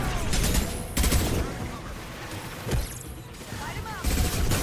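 Sporadic gunfire bursts and mechanical clatter from a firefight in Mass Effect Legendary Edition, several loud broadband blasts spread across a few seconds amid combat noise, with voices faintly present.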